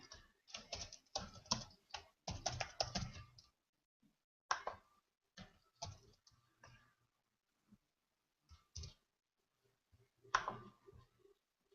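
Computer keyboard typing comes in short bursts of quick, quiet key clicks separated by silent pauses, close and soft, with no talking.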